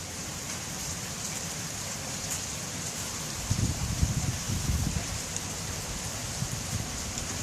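Steady outdoor rain falling as a constant broadband hiss, with a brief burst of louder, closer patter or rustle in the middle; no voices.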